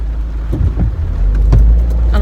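Steady low rumble of a car's interior road noise while driving on a rainy London road, continuous and fairly loud with a few brief faint knocks, no talking.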